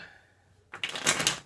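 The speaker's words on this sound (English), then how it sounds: "Well, I'm gonna give these another shuffle." A deck of playing cards is riffled in a single crisp burst of rapid fluttering clicks, close and fairly loud, following a brief quiet pause.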